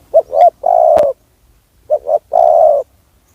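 A spotted dove cooing close by and loud: two phrases, each of two short soft notes followed by a longer drawn-out coo, separated by a brief pause, with a sharp knock between.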